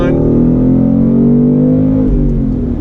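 A 2019 Ford Mustang GT Performance Pack on throttle through a left-hand bend, its V8 droning loud and steady from inside the car before easing off near the end.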